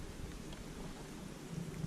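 Steady rain falls on the Pacific Crest Trail in cold, wet conditions, a continuous broadband hiss with a low rumble, fairly loud and even throughout, with no voices.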